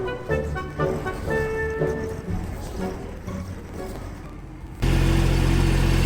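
A Mahindra Emax compact tractor works its bucket in dirt, its diesel engine droning steadily nearby with shifting load and rising to a louder, steadier roar near the end.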